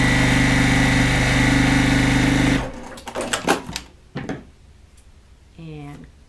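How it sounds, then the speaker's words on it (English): Sewing machine stitching a seam on a Court House Steps quilt block, a steady, loud motor whir with a fast needle pulse for about two and a half seconds, then it stops and a voice talks over light handling sounds. "Let's continue sewing this."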